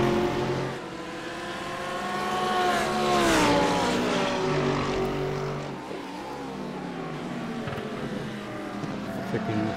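Race car engine in the iRacing sim during a GT sprint race, revving and droning steadily with rising and falling pitch as the car works through gears, continuous and fairly loud with no talk.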